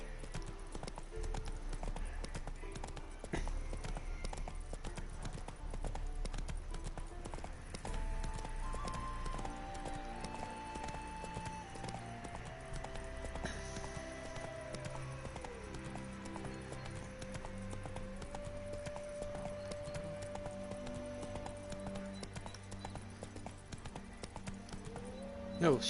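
Horse hooves clip-clop steadily in a PS4 video game, a continuous rhythmic trot mixed with game music and ambience, with no talking.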